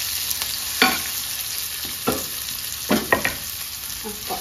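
Sardines being stirred and fried in a home kitchen pan, with a steady sizzle under several short, distinct scrapes and clacks of a utensil against the pan, close and fairly quiet.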